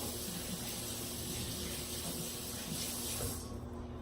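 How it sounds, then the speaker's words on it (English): Kitchen tap water running steadily while hands are washed, a constant near hiss that cuts off abruptly near the end. "Let me wash my hands off."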